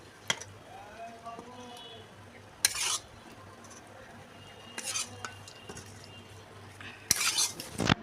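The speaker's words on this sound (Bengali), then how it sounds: "এখন আমি ভাতের সঙ্গে এরকম করে মিশিয়ে নেব।" Prawns being stirred into partly cooked rice in a pot for prawn pulao, with soft scraping and clinking of a utensil against the pot in a few short bursts over a quiet kitchen background.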